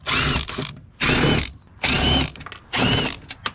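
T15 screws being backed out of a Corvette C5 backup light plate with a powered driver, four loud whirring bursts of about half a second each, separated by short pauses and light clicks.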